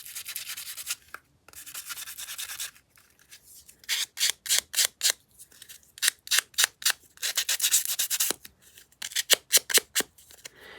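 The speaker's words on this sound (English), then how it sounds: "I'm going to sand it just a bit first" A handheld Tim Holtz sander scuffs a sheet of paper for a grungy crafted pocket, close and dry: a few long scratchy passes, then bursts of quick, rhythmic back-and-forth strokes with short pauses between, no voices.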